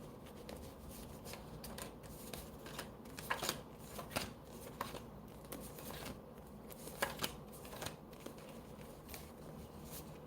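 Paper note cards being shuffled and flipped by hand close up, soft dry riffling and tapping in irregular bursts, quiet and without talk.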